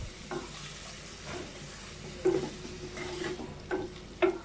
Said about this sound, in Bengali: আমি আজ শুটকি, পেঁয়াজ আর কুচি করে কাটা রসুন একসাথে ভেজে নিব